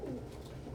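A pigeon coos in a low, soft, throaty murmur, close and continuous for a brief moment with no voices over it.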